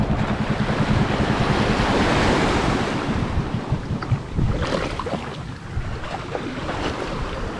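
A boat engine drones low beneath loud crashing waves and wind buffeting the microphone; no one speaks.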